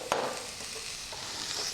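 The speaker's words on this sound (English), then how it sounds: "And now mix them in very gently" Pav bhaji rava balls being gently stirred with masala in a pan, one quick scrape followed by a soft, low sizzle.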